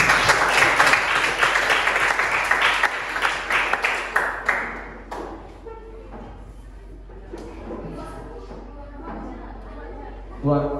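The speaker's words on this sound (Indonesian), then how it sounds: "Tepuk tangan dulu untuk kelompok 2" An audience claps loudly for several seconds, the applause fading into scattered claps and murmuring voices, with a person speaking afterward.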